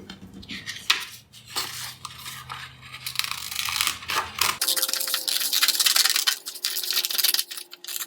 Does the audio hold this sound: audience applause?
no